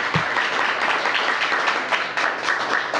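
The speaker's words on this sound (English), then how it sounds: "Let's give Princess Ann a big round of applause." Audience applause for Princess Ann after her introduction at a Washington, D.C. public schools event with Mayor Bowser, loud continuous clapping from a large crowd lasting the whole moment.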